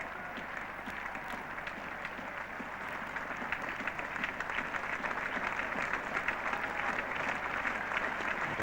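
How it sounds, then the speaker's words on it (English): A very big cricket crowd at Lord's gives generous, sustained applause for Tony Greig during an England v Australia Test, steady massed clapping at a moderate distance that swells slightly toward the end. "Very big crowd here, but most generous applause for Tony Greig"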